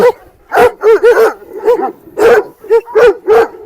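A Kangal and a Rottweiler fighting bark in quick, overlapping bursts, about ten sharp yelps and barks close by, agitated and loud with brief gaps between them.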